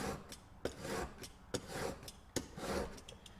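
A VPA single bevel broadhead is drawn across a rough-grit sharpening surface in steady rasping strokes, about four close passes with sharp scrape onsets, alone with no talking.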